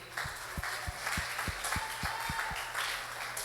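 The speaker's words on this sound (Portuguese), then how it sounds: "Que você aplaudisse a Jesus pela vida dele." A congregation in church claps in unison, about ten steady rhythmic beats at moderate distance over a soft background of murmuring applause and room noise.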